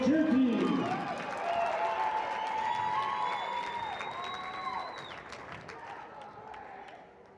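Crowd in a high school gym applauding and cheering for the Pueblo County High School cheer team at a girls basketball game, loud sustained clapping with whoops and shouts that slowly fade.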